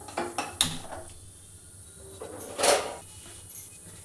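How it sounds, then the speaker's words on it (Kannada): A metal pan is set down on a home kitchen stove ahead of roasting paneer, giving a few sharp clanks and a louder knock near the end amid quiet kitchen noise. "ಇನ್ನು ಇಲ್ಲಿ ಒಂದು ಪ್ಯಾನ್ ಇಟ್ಕೊಂಡಿದ್ದೀನಿ."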